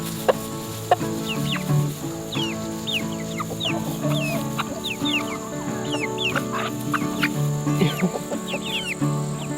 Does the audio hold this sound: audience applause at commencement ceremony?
no